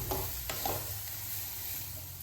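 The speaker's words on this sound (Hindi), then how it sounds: "अब हम सारे मसालों को गोभी के साथ हाई फ्लेम पर 3 से 4 मिनट के लिए भून लेते हैं।" Cauliflower with spices fries on a high flame for gobhi aloo paratha filling, a steady close sizzle with a few soft stirring scrapes, fairly quiet and with no talking.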